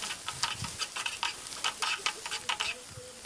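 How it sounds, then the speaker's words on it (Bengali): Spices with ginger garlic paste being stir-fried in a pan, a soft sizzle under repeated scraping and stirring strokes that come in a steady, close rhythm. "এবার আদা রসুন পেস্ট দিয়ে আরও ভালো করে কষাচ্ছে"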